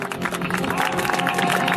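Audience applause for a performer at a French concert or recital, a dense steady wash of many hands clapping continuously at moderate loudness.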